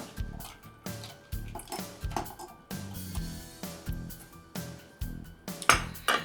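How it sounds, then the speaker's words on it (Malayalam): A bar spoon stirs a grape cocktail in a glass, making a repeated rhythmic series of light clinks and taps, quiet and close, with no voices. "ദെൻ ബാർ സ്പൂൺ വെച്ച് നിങ്ങളൊന്ന് ജസ്റ്റ് ലൈറ്റായിട്ടൊന്ന് ഇളക്കുക"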